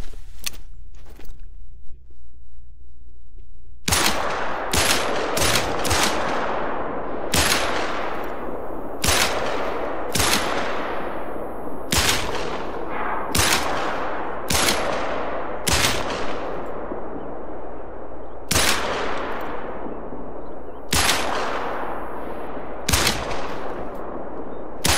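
Rifle shots from a 10mm in Hunter Call of the Wild, aimed at a turkey: a long string of loud, sharp single cracks at irregular intervals, each ringing out briefly, with no talking.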